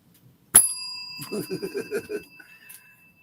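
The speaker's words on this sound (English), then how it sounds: "The bell is such a great touch" A bicycle bell rings once in a played piece of music, a bright sharp ding with a long ringing tail, followed by a run of quick rhythmic notes under the sustained ring.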